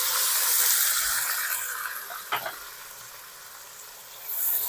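Garlic, ginger and onion fry in oil for Lahori black pepper chickpeas, giving a steady close sizzle and crackle with a few stirring clinks, and no talk over it.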